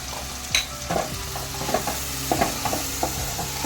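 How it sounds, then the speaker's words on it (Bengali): Fried giant freshwater prawns being stirred in a pan for a Bengali prawn rezala, with a steady close sizzle and repeated scraping strokes of a spatula against the metal, no voices. "চিংড়ি মাছটা দিয়ে আমি ভালো করে একটু নাড়িয়ে নেব"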